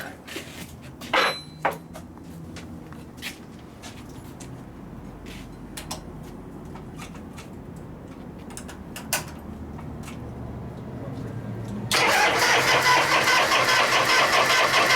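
A 1973 Harley-Davidson FX Super Glide with a 74ci Shovelhead engine, choke on, starting: a few scattered clicks and knocks over a low rumble, then the engine catches and runs loud and steady for the final seconds.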